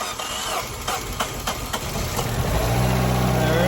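A 2012 Fiat 500 engine cranks with a few rhythmic strokes, then catches and settles into a steady, loud idle close by.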